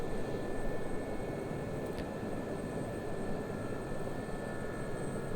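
A Gazelle helicopter flying in the DCS combat flight simulator, heard as a steady, loud turbine and rotor drone that holds evenly throughout, with no talking.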